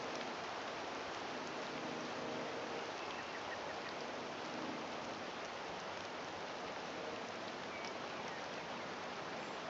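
Steady rain falls in Disney Dreamlight Valley, a dense, even hiss of drops on surfaces that carries on without a break and without any voices over it.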